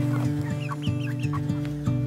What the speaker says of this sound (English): We're here with our Americana chicken.